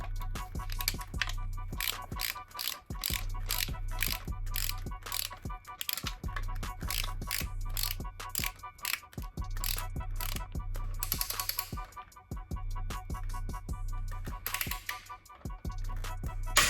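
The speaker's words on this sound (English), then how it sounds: "just torque these down" A torque wrench ratchets while tightening clutch bolts on a 1000+ hp engine build, giving a steady run of close, crisp metallic clicks in rapid bursts with short pauses, no voices.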